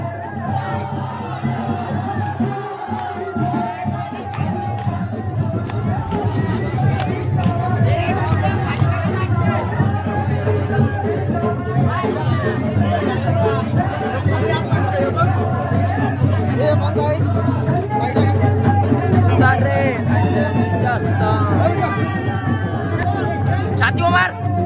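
At the Bahiridev village fair in Vadhav, a large crowd roars and shouts in continuous excited babble, with voices calling out over a dense, loud din close by.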